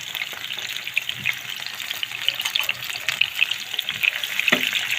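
Bagoong shrimp paste frying in a pan for a simple home-cooked Filipino dish, a steady close sizzle with light crackles and occasional stirring scrapes, no one speaking.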